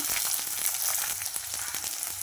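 Tomato goes into a pan of fried onion and garlic, giving a steady loud sizzle with crackling pops throughout, close by and with no voices.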